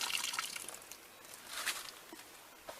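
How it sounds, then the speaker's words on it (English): Water trickles and splashes softly, with light drips and a gentle pouring wash that swells briefly midway, fairly quiet and close. "going to pour the water on the outside of it. We let the water run down"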